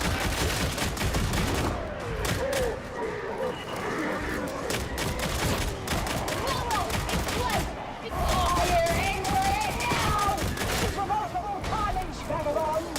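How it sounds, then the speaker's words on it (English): Pistol gunfire in the Warhammer 40,000: Darktide video game, with rapid shots crackling over dense game combat noise while several people talk throughout. "Oh, dude, these pistols feel so good!"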